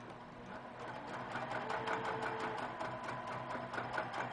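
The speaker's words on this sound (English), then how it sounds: "But I want to stitch it out bigger so you can see how it's going to go." A sewing machine stitches scallop half circles on a quilt block, a steady rapid mechanical whir with quick repeating needle pulses, fairly quiet and close, growing slightly louder after the first second.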